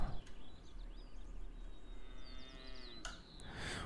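Cattle lowing inside a barn in the farming game Cattle and Crops, a few drawn-out moos at moderate distance with faint bird chirps in the background.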